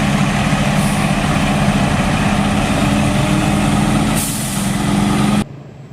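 A fire ladder truck rumbles loudly at close range with a steady heavy diesel drone and a brief air-brake hiss, and the noise cuts off near the end.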